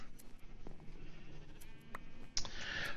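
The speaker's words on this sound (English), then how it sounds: "And shear some sheep here." Sheep bleating while being sheared in a video game, a short, faint bleat followed by a brighter snipping burst near the end, heard alone in a quiet scene.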